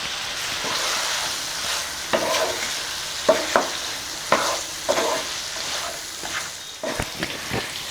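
Mutton fry masala sizzles in a pan as salt is stirred through, with irregular scraping strokes of a spoon popping out over a steady frying hiss.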